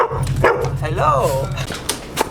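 A dog barks and whimpers close by at the start of a New York to Florida road trip, giving a few short excited yips amid people talking.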